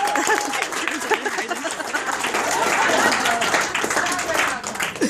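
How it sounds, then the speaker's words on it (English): A Christmas party crowd claps for a colleague, steady dense applause lasting several seconds with cheering voices and chatter mixed through it, moderately loud and close. "How about a round of applause for Karen Wegg?"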